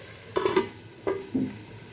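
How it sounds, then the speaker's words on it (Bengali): Metal lid lifted off a cooking pan while frying drumsticks with lentil fritters: a few close clinks and clanks, a quick double tap, then two more separate metallic knocks, with a quiet room behind. "ঢাকনাটা উঠিয়ে দিই।"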